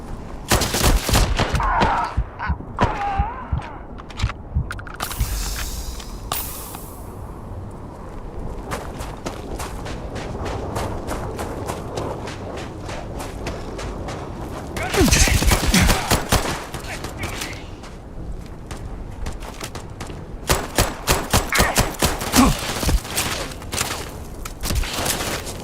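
Starfield combat gunfire: repeated bursts of sharp, loud shots in clusters over about 25 seconds, with heavier flurries midway and near the end, quieter gaps of scuffling steps between, and a voice briefly talking.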